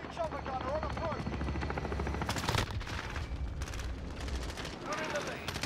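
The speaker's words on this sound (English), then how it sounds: "Enemy chopper gunner on approach." Helicopter rotor drone and bursts of automatic gunfire from a chopper gunner in Call of Duty Modern Warfare team deathmatch, loud and continuous with sharp shots layered over the engine noise.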